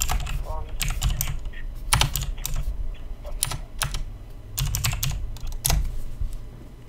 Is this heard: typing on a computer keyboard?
yes